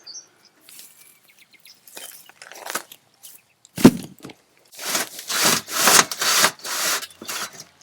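A rake scrapes across the ground clearing debris on a homestead, first with scattered light scratches, then a sharp knock, and then a run of loud, rhythmic rasping strokes close to the microphone.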